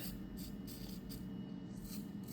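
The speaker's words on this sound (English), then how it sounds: "So we're going to spray the tip," Penetrating oil is sprayed onto the anvil tip of a half-inch impact driver, making faint repeated short hissing bursts against a low steady background hum.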